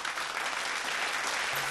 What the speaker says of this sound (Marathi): एकदा टाळ्या होऊन जाऊ देत त्यांच्यासाठी